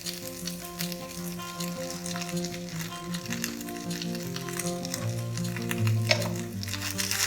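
Potato stuffing with turmeric and salt for bread pakora is stirred in a pan on a gas stove, a soft steady sizzle with gentle mushy scraping strokes, close and moderately quiet, with no voices.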